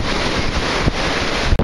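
Breezy outdoor wind buffets loudly and continuously, with rough rumbling gusts and a sharp dropout near the end, alone without talk.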